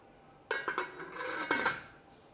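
A lid goes onto a metal pot of milk during home mozzarella making, giving a few quick clinks and a scraping rattle in two bursts, close and moderately loud, with no voices.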